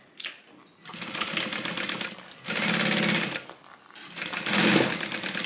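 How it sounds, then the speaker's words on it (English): A sewing machine runs a basting stitch down a bag in three steady bursts of fast, whirring mechanical stitching, close up, separated by short pauses. "Just put a little basting stitch all the way down."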